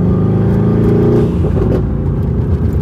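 A loud, close twin-turbo V8 engine in a modified Mercedes-AMG GT R producing over 800 horsepower rumbles and revs with a deep throaty roar, pulsing slightly as it holds steady.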